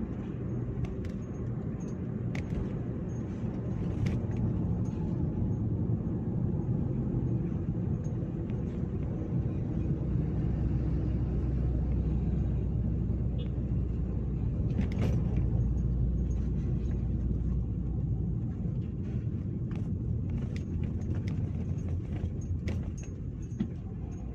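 Mitsubishi Xpander driving at about 60 km/h on a ring road, heard from inside the cabin as a steady broadband road and engine rumble throughout, with faint rattles and clinks over it and no talking.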